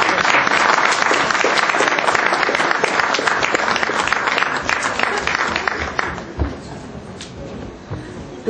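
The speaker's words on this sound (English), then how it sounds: "have a nice warm round of applause for our sister Lauren Boone" Warm round of audience applause for Lauren Booth at a talk on Palestine, dense clapping from many hands that holds steady, then thins and fades to scattered claps near the end.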